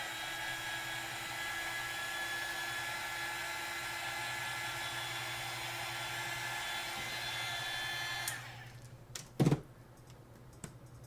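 A hair dryer blows steadily to dry alcohol-marker coloring, a constant close whirring hiss lasting about eight seconds before it switches off, followed by a few faint clicks and knocks in quiet.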